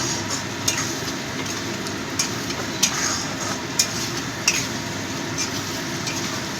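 Koi fish and cauliflower curry is sautéed and stirred in a pan, with a steady sizzle under regular sharp clinks of the spoon against the pan.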